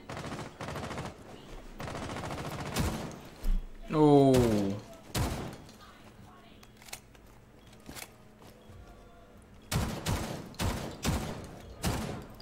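Gunfire in Rainbow Six Siege rings out in bursts of sharp shots near the start and again near the end, with players talking in between.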